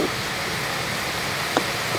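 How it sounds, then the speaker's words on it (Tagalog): Steady, dense hiss of heavy rain pouring continuously, loud and close, with no voices. "Ang lakas ng ulan."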